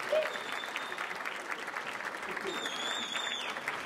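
Audience applause at a stage hypnosis show: steady, moderately close clapping from a crowd runs throughout, with a whoop and a brief whistle-like tone over the claps.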